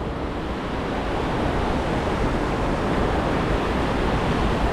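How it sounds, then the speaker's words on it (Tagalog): Strong water rushes in a steady, loud, broadband roar throughout, close by and with no speech. "Lakas ng tubig."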